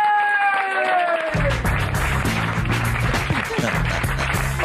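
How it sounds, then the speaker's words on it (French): A TV studio audience applauds a guest named Olga on a French comedy show, loud steady clapping and cheering over a bouncy music bed after a short sung jingle, lasting throughout. "Et on applaudit très fort Olga."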